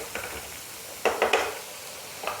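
Masala frying in a pan for dhaba-style aloo bhuna: a soft low sizzle with a few quick spoon scrapes and stirring bursts, fairly faint overall.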